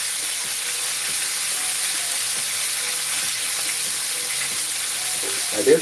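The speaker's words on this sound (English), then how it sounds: "It's making that sound because the water is hissing." Food frying in a hot pan as water hisses off it makes a steady, loud, close sizzle that barely varies, ending with a brief clatter.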